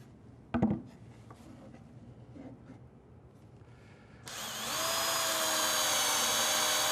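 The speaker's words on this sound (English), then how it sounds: "then I'll mount them permanently with a couple of screws" A screw driver fixes the runners to a tablesaw crosscut sled in a wood shop: a sharp knock early on, then a loud, steady whirring drive that starts about two-thirds through and holds to the end.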